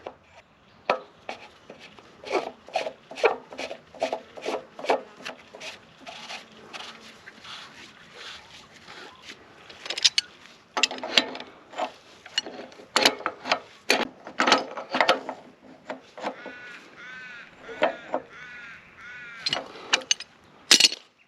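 Close, repeated clicking and ratcheting as a plastic fitting is screwed tight onto an Aussie Pumps FireChief pump, coming in quick bursts of sharp ticks with short pauses and a few louder creaks near the end; no talking.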